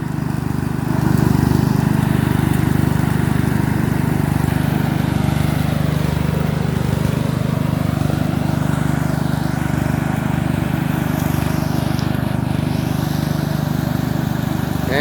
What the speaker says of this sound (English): So now I'll test it. It's a 5-speed Craftsman 2. Mower deck's working.